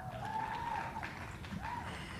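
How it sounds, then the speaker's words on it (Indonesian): Audience applause in a university auditorium, a short, moderately loud burst of clapping from a crowd, with a voice speaking over it. "Mari kita beri tepuk tangan buat Pak Dion"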